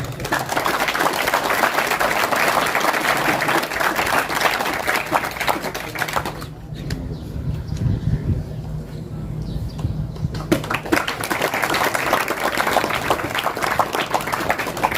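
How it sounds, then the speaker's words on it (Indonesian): An audience at an opening ceremony in Arso, Keerom, Papua claps in a dense burst, dipping briefly in the middle where a low voice and murmur show through, then swelling again. "Ya, tepukan."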